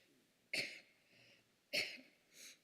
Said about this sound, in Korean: 이제 기침 많이 나온다.